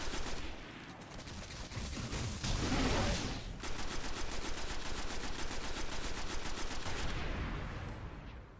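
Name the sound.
gunfire from primary weapon in Destiny video game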